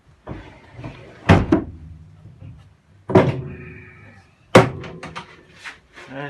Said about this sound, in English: We'll shut this door up.